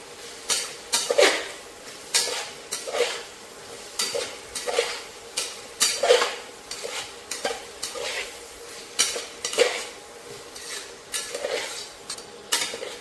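Vegetables being sautéed with ginger garlic paste inside a pressure cooker, with a spoon scraping and clinking against the metal in a steady rhythm of strokes about every second over a light sizzle, close and clear.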